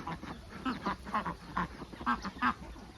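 Khaki Campbell ducks quack on an egg-laying duck farm, a flock giving repeated rhythmic quacks at moderate distance, fairly quiet and with no talking.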